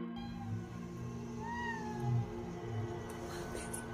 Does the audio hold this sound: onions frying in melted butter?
no